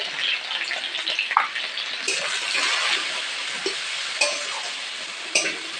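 Steady sizzling of potatoes frying in hot oil with turmeric, with occasional stirring clinks and scrapes over the continuous crackle.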